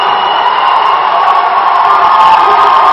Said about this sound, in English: Hashimoto getting that crowd pumped